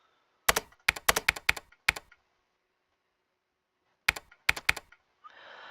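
Keyboard typing in the Resident Evil Code Veronica video game, two short bursts of crisp clicking keystrokes separated by a quiet pause, followed by a soft hiss at the end.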